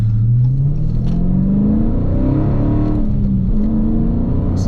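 A six-speed Dodge Scat Pack engine revs while driving, its pitch climbing steadily through the gear, loud and continuous with mechanical whir close by and no talking.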